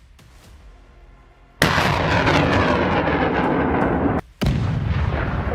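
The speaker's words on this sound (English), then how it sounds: "Precise strike from Ukrainian HIMARS, and the target is destroyed." Ukrainian HIMARS rocket strike hitting a target: a faint rumble gives way to a loud, sustained roaring blast that runs for seconds, cuts out briefly, then surges back just as heavy.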